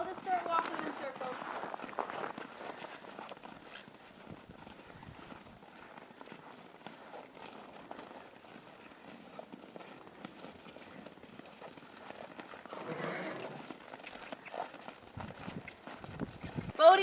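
A horse walking in circles while being trimmed, its hooves clip-clopping in a steady, moderately near rhythm throughout, with a person talking over much of it.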